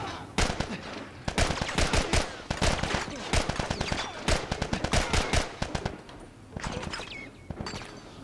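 Rapid bursts of gunfire in The Last of Us Part II, with dense volleys of sharp, loud shots packed closely together across the whole stretch and only brief gaps between them, no talking.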